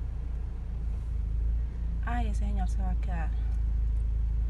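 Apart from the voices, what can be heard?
car driving through deep flood water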